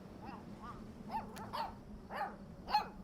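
A dog in the video game Life is Strange 2 gives several short barks and yips at irregular intervals, fairly close, over a low background hum.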